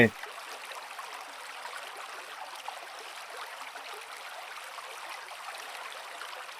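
Steady rushing water of a stream and waterfall at Tad Sadao falls in Kanchanaburi, a continuous broadband wash heard up close with no voices.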